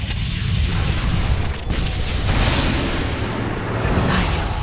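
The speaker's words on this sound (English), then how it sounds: "Radiant's bottom tower has fallen" A tower in Dota 2 is destroyed with a loud, rumbling boom that holds steady and dense for several seconds, then fades slightly into crackling debris.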